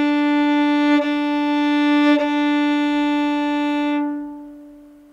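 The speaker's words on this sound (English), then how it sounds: "When you pull the bow across the hair, it makes a sound like this." A violin bowed with a rosined horsehair bow holds one steady, sustained note for about four seconds, with faint bow changes partway through, then stops cleanly.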